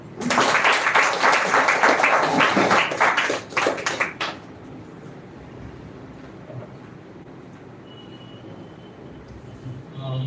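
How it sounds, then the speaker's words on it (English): Audience applause for a speaker at an English speech competition semi-final, loud dense clapping for about four seconds that stops abruptly, leaving quiet room noise. "So clap for Mr. Sumit"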